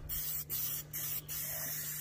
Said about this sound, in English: I'm just going side to side with the spray,